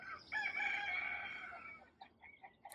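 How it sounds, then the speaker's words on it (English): A rooster crows loudly in one long call, followed by a few softer clucks from chickens nearby. "Chickens."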